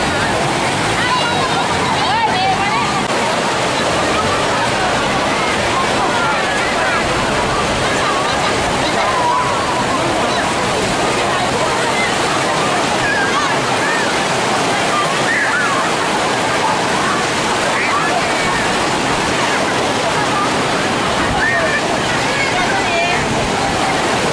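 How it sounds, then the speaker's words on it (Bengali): Sea waves breaking steadily at Coral Island beach near Pattaya, a loud, continuous roar of surf throughout, with faint voices beneath. "তুতের মতো রং, খুব সুশৃঙ্খল ঢেউ"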